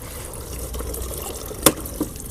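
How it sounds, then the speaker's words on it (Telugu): Water runs into a bottle during refilling, a soft continuous trickle broken by a couple of brief splashy plinks near the end, fairly quiet and close. "అయిపోగానే మళ్ళీ వాటర్ అనేవి ఫిల్ చేసుకుందాం. సేమ్ ఇదే విధంగా రీఫిల్ చేసుకుందాం అనుకోండి."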